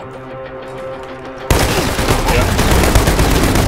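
Loud, dense gunfire in the shooter game Arena Breakout Infinite, a sustained burst of rapid shots that erupts suddenly after a moment of quieter game sound, with a brief spoken word nearby.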